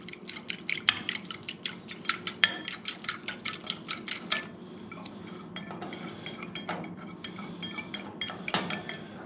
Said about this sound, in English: I'll take a fork for that, just mix it a little.